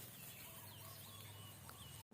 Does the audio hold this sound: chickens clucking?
yes